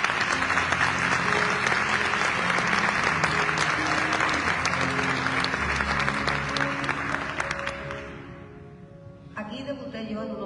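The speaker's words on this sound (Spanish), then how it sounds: "Un aplauso grande." Large audience at a copla and flamenco concert applauding in a long, dense burst that dies away, with a voice speaking at the close.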